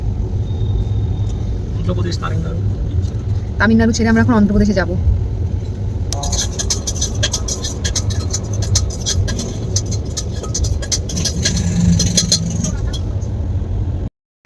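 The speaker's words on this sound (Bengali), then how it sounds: "ট্রেন এখন চেন্নাই ছেড়ে যাচ্ছে" Train pulling out of Chennai in Tamil Nadu, a steady low rumble with rattling and clinking carriage noise throughout, nearby voices talking over it.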